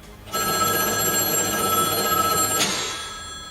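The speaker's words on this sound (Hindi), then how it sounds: "तभी एक फोन बूथ का रिंग बजता है।" A phone booth telephone rings with a steady electronic bell tone that sustains for a couple of seconds and then cuts off, with no voices over it.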